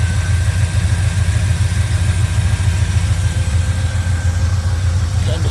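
A Chevrolet 327 V8 idles in a 1966 C10 truck, a loud, steady low rumble with a quick, even pulsing lope, close by and continuous.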